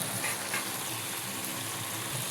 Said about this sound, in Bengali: আমার মাংসটা কষানো হচ্ছে আস্তে আস্তে